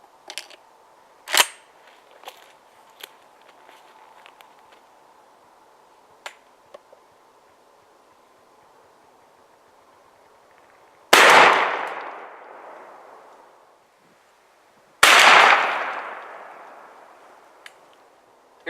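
Two loud shotgun blasts firing turkey loads at a turkey target 30 yards away, spaced about four seconds apart, each with a ringing decay, after a stretch of faint clicks and handling noises.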